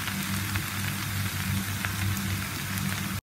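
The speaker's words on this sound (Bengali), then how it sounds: "আমি প্রায় 2 মিনিটের মতো একটু ভেজে নিয়েছি" Vegetables and boiled potatoes fry in a pan with a dense, even hiss of sizzling oil that continues unbroken and fairly loud, then cuts off abruptly.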